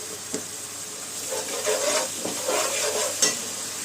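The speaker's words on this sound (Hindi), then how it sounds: "अच्छी तरह से इसको कच्ची भून जाने तक अच्छी तरह से भून लीजिए अदरक लहसुन को और हरी मिर्च को" Ginger garlic paste and green chilies fry in a hot pan, a steady sizzle with soft scrapes of a spoon stirring through, fairly close and uninterrupted by voices.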